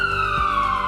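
A brief, steady wail from an emergency vehicle siren, a fire truck or ambulance, sounds loud and continuous, with no other sound around it.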